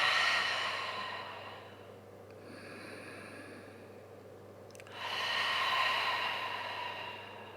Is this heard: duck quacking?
no